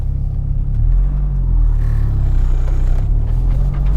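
A Toyota MR2 Turbo pulls away from a stop with a steady, loud low engine rumble and a slight rise in revs as the clutch engages, continuous throughout with no talking.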